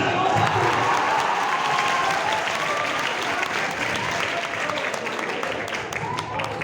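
Loud, sustained applause from a large audience at a Hindi comic poetry recital at a college, dense clapping filling the whole stretch and easing slightly toward the end, with no voices over it.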